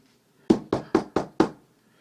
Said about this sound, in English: That knock at the door made her heart jump.